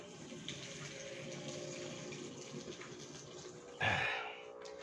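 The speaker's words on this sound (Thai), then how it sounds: "เทน้ำจริงก่อนครับ" Water being poured into a cooking pot while preparing apple snails, a continuous running, splashing stream with a sudden louder gush near the end, heard up close with no talking.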